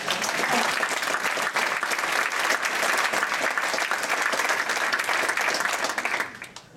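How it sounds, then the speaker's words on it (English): Dense, sustained applause from a large audience, steady and loud for several seconds before tapering off at the end. "I think he deserved a round of applause."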